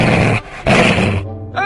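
Dogs growling and snarling in an animated fairy-tale story, two loud close bursts of low rough growl separated by a short pause, followed by a brief higher whine at the end.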